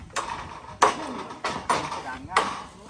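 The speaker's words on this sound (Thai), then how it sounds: "ตอกตะปูลง" Four sharp hammer strikes drive nails into a roof, landing at uneven intervals, each a solid knock with a short ringing tail, fairly close.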